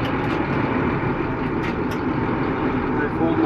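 A truck idles and rolls forward to hook up to a sled, a steady low diesel engine rumble with a few brief hissing bursts of air, heard close with someone talking over it.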